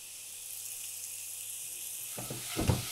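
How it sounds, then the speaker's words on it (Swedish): Diced potatoes sizzle in butter in a frying pan, a steady close hiss throughout with a few stirring scrapes and clatters near the end. "jag står och steker potatisen här"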